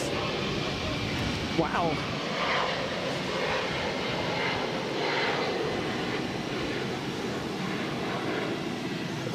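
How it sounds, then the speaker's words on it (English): A JetBlue Embraer E190 jet taking off from Boston for Martha's Vineyard, a steady, powerful engine roar throughout with a brief exclaimed voice early on. "1324 taking off to Martha's Vineyard on an E190. Dramatic takeoff."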